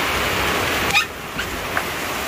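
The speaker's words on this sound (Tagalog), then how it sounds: "Ang lakas ng alon" Strong ocean waves surge on an island shore in stormy weather, a continuous loud roaring wash with brief splashes.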